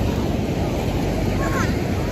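Pacific Ocean waves at a beach in Oceanside, California make a steady, broad rush of surf, mixed with wind noise on the microphone and continuing without a break.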